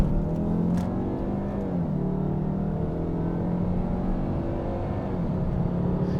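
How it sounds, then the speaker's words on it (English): A Volvo C70 T5 five-cylinder engine hums steadily with a smooth, low drone, its pitch rising slightly as it revs, continuous throughout with no talking. "I do like the sound of the 5-cylinder."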